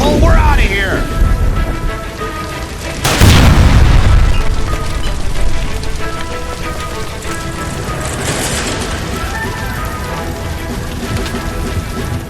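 A gas line blows in LA Noire with a sudden heavy boom and crackling burst, rumbling debris and a long noisy aftermath of fire and falling bits, amid game sounds and occasional voices.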